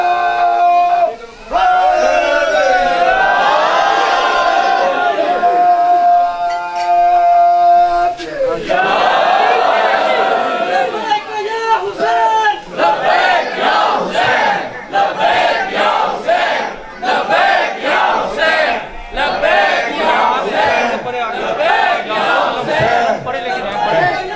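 A large mourning crowd at a Shia religious gathering for Imam Hussain chants slogans in loud, forceful unison, bursting out in repeated rhythmic shouts that rise and fall with brief gaps in between.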